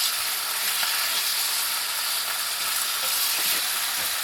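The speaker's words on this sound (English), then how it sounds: "I want to get that bacon going. I do want to get that cooked" Bacon frying in a very hot pan on an off-grid homestead stove, a steady dense sizzle and crackle running loud and unbroken throughout, with no voices.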